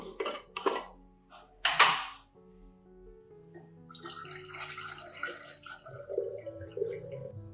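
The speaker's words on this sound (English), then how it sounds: "After 2 hours, stir the garlic solution well." Garlic solution being stirred in water, with splashy sloshing and clinks of a utensil against a container in short bursts, then softer, ongoing swishing and dripping water.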